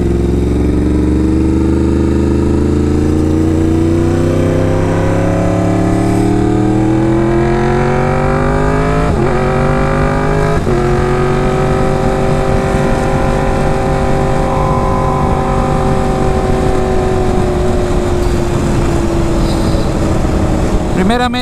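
A Yamaha R1 sport motorcycle revs and climbs steadily through the gears on a ride in Brandon, Florida, its engine note loud and close with a wind-rushed, continuous drone and brief dips at shifts.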